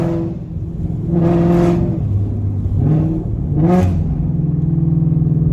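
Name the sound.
modified Shelby GT500 engine revving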